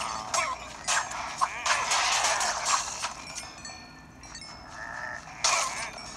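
Sheep bleating in a video game, several short repeated bleats with crashing game sounds mixed in, fairly loud and close, with no talking over them.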